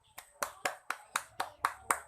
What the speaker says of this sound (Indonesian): Beri tepuk tangan untuk Maufira karena telah menjawab dengan benar.